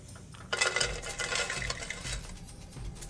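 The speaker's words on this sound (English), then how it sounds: "First thing we need to do is to toast the slices almond" Sliced almonds are stirred in a pan with oil, giving a busy scraping and rattling against the metal for a few seconds, close and moderately loud, then settling into a faint background.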